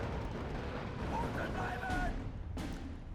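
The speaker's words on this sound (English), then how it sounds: "But the amount of artillery is pretty insane." Artillery barrages in the WWII strategy game Steel Division 2 rumble steadily through the clip as a dense, continuous low-end roar, with a sharper broadband blast near the end; a voice talks over it throughout.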